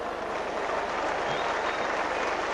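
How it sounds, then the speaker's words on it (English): A stadium crowd at a Lancashire v Yorkshire rugby league match applauds in a dense, steady wash of clapping and crowd noise that holds throughout. "The crowd come to life."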